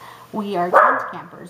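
A dog barks at a tent campground, a quick pair of loud, close barks with harmonic whine between them, while someone talks over it.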